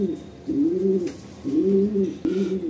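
Pigeon cooing in repeated low, rolling phrases, three clear bouts close to the microphone with short pauses between them and no talking.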